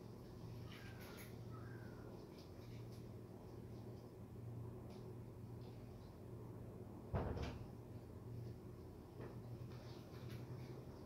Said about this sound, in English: Had to go close the door.